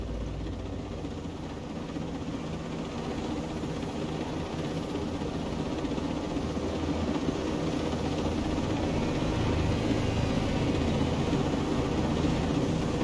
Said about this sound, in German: Wenn ich den Helikopter seitwärts fliege.